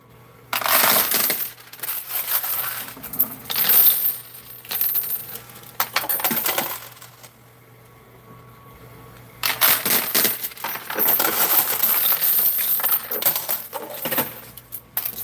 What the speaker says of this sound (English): Yeah, where he's dropping more coins.